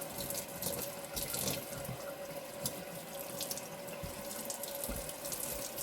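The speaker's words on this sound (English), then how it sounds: "Wash the fat side off." Bacon is rinsed under a running kitchen tap, a steady close hiss of water splashing into a sink with occasional spatter as the meat is moved through the stream.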